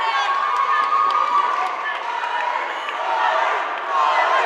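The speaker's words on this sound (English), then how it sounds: "As the crowd get going again, they want to see more from their champion, Molly McCann." Arena crowd at a women's MMA fight cheering and roaring steadily for their champion, a dense, continuous wall of voices with shouts rising above it throughout.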